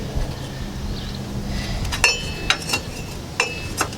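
Loose parking brake pad hardware in the rear brake of a 2004 GMC Envoy SUV giving several sharp metallic clinks and rattles, close up over low background rumble, with no talking.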